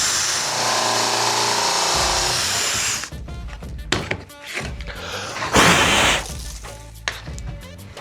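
A power drill bores a hinge hole in wood using a jig, a loud steady whine for about three seconds followed by clattering, rubbing and knocking of the tool and workpiece.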